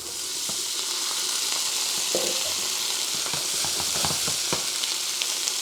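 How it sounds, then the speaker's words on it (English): Broccoli stir-fries with beef and onions in a pan, giving a steady, loud, hissing sizzle throughout with scattered light clicks of stirring and no voices. "Now we're going to add the broccoli."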